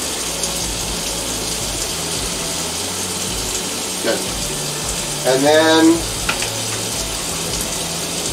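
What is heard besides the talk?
water running from a tap to refill a container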